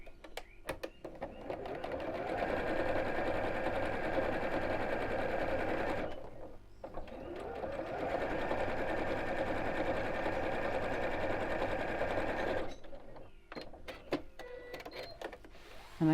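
A sewing machine runs in long, steady bursts of fast, even stitching, pausing briefly twice, while sewing a fabric double-pocket book cushion with long stitches.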